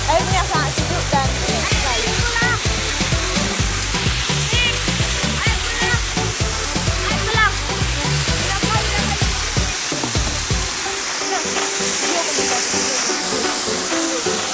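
A waterfall at Bukit Gibeon Sibisa, over ten metres high with cool water, gives a loud, steady, broadband rushing roar throughout, and its low rumble thins out near the end.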